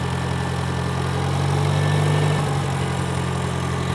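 A 1972 International Cub tractor's four-cylinder gas engine idling close by, a steady low droning rumble with constant vibration throughout and no talking.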